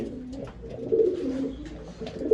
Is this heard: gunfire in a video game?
no